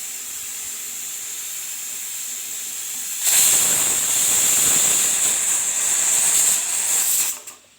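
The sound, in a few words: pressure cooker whistle releasing steam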